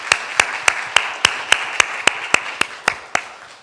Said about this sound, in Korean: 이들을 위해서 감사의 박수를 한번 하겠습니다